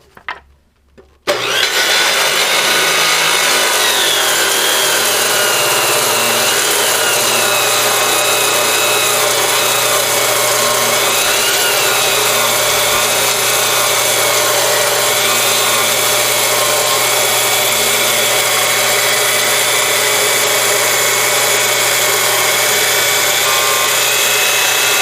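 An abrasive power tool cuts an aluminum bracket for a C-Dory 22 trolling motor install, starting after a brief pause and running as a loud, steady grinding whine with a low hum beneath it, continuous to the end.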